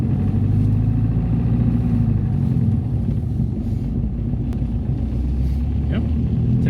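A 1964 Porsche 356, a compact small car, pulls away with a steady low engine drone that holds close and even throughout, with no rise or fall in loudness.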